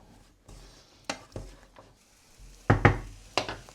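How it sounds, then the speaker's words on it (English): Chili con carne with mild chili powder stirred in a pan, a handful of scraping, clattering stirring strokes in irregular bursts over a faint sizzle, close and moderately loud. "Stir that round."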